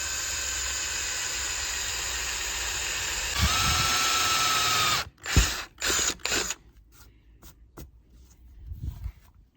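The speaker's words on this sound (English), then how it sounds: "I got the big drill out, and so I'm just gonna try and center this and make a hole." A big power drill bores a hole into a masonite step stool, with a steady whirring run, a louder stretch, then choppy bursts of drilling that stop and start before trailing off.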